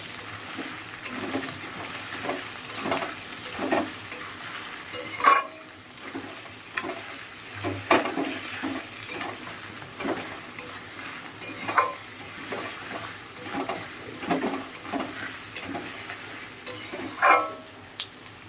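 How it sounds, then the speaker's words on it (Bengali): Chopped onion sizzles in a pan while a utensil stirs it, scraping and clinking against the metal in irregular strokes over a constant frying hiss. "পেঁয়াজটা একটু ভালো করে ভাজা হয়ে যাবে।"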